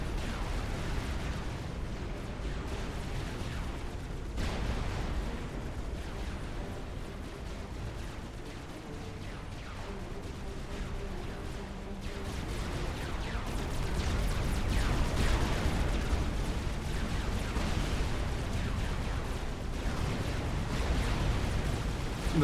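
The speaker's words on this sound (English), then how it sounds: "The battleships still duking it out." Distant, steady rumble of naval combat in Supreme Commander Forged Alliance, battleships trading fire in a continuous wash of booms and blasts that swells toward the end, quiet and without speech.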